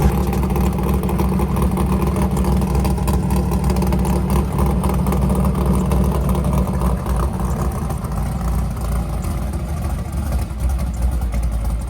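Drag-build Oldsmobile Cutlass engine running rough with a dead cylinder, a steady loud idle with an uneven, lumpy low rumble that holds for the whole stretch, close and continuous with no talk.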